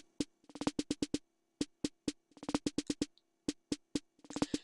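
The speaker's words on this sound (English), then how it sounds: "the final snare I've added is what I've termed here this military snare" A vintage military-style snare drum plays crisp, evenly spaced hits that break into quick bursts of rolls, with loudness rising and falling across the phrase, played alone and close up as part of a produced beat.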